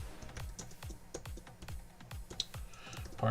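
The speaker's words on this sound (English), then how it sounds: "because I'm typing while I'm talking" Close, quiet typing on a computer keyboard: a steady run of distinct key clicks at an even rhythm, with no talking.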